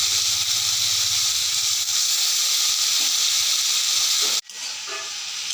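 Banana stem fries in oil with mustard seeds, black cumin and dried chili, giving a loud, continuous hiss and sizzle that cuts off abruptly near the end, then resumes more quietly.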